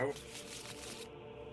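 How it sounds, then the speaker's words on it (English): A deck of Arkham Horror game cards is shuffled, giving a brief, soft riffling flutter that is quiet and close, then fades to near silence. "And then shuffle your deck, yeah."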